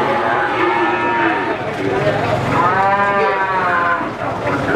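Calves and cattle moo repeatedly at a busy Indonesian calf market, Pasar Sapi Paingan, with long drawn-out lowing calls rising over a constant crowd hubbub and occasional faint voices.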